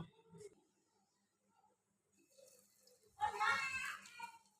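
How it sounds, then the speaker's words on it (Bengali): Lentil fritters (masoor dal bora) go into hot oil, setting off a loud, bubbling sizzle that swells suddenly after a quiet stretch of faint kitchen clatter and holds for over a second, close by. "তেলটা সুন্দর গরম হয়ে গিয়েছে এখন দিয়ে দেবো বড়া"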